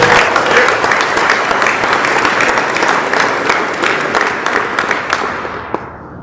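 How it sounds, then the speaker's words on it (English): Sustained applause from an audience at a military reserve command awards call, loud and steady throughout, then tapering off in the final second. "Please give all those recognized today another round of applause."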